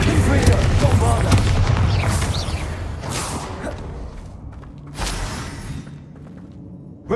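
Bombarda blasting spell from Hogwarts Legacy bursting amid other spell effects, with loud booming blasts and whooshes at about 3 and 5 seconds, while a player casts spells aloud.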